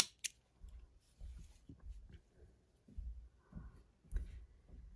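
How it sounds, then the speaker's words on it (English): Scissors snipping through a crochet yarn loop while finishing a small flower coaster, a string of soft close cuts and clicks spread across a few seconds, quiet, with no talking. "Then we're going to grab our scissors and snip the loop right at the top."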